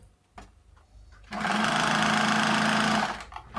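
A sewing machine runs a steady, loud stitching burst for about two seconds while seaming the sides of a churidar top sleeve, preceded by a few soft handling clicks and followed by quieter fabric movement.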